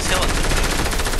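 Rapid gunfire from the video game Fortnite, a dense continuous burst of automatic shots filling the whole moment, loud and close, with no talk over it.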